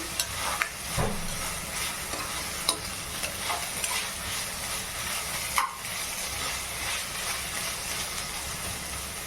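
Ginger-garlic paste fries in a pan for paneer butter masala with a constant hissing sizzle, while a spatula stirs it in soft, repeated scraping strokes close by.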